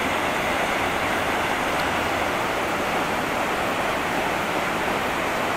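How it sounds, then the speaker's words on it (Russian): Constant rushing splash of a small Himalayan waterfall at Vishnuprayag, a steady broadband roar that stays even throughout, with no voices. "Водопад такой небольшой."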